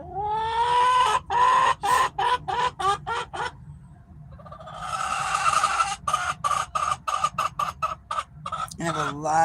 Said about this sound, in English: There's my birds.